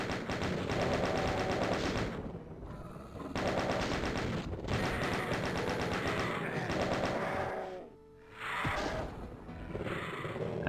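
Rapid automatic gunfire from the Doom map Eviternity II, loud continuous bursts of shots broken by short pauses, the last stretch cutting off briefly before firing resumes.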